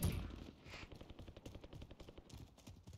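Rapid bursts of light machine gun fire in a video game, a quick rattling volley of shots repeating in short clusters, fairly distant and with no talk over it.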